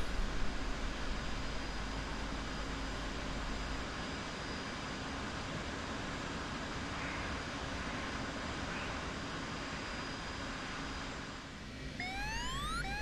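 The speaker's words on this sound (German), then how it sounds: "zum Schluss nochmal eine Landung. Diesmal mit DCS." Aircraft landing in the DCS flight simulator game, a steady broadband engine and wind roar at moderate level throughout, easing slightly near the end as a rising whine sweeps in, with no speech.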